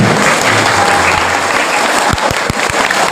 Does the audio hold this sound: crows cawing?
no